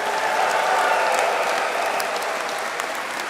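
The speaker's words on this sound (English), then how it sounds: "So I want you to give a massive cheer and a round of applause" A graduation ceremony crowd claps and cheers in a thick, continuous roar of applause, loud and even from start to finish with no speech over it.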